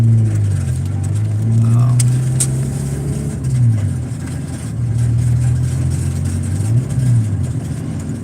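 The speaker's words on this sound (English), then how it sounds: "my muffler sounds horrible, don't it?" Car engine with a bad muffler, a loud rough droning exhaust rising and falling in steady revs throughout, up close with a voice briefly audible over it.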